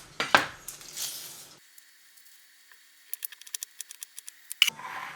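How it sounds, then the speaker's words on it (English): Onions and mushrooms chopped on a board give a burst of quick, close knife taps near the end, after some early rustling and handling noise and a quiet stretch. "I can chop up my onions and mushrooms"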